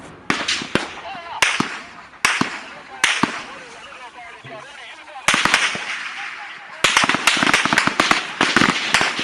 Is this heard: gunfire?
yes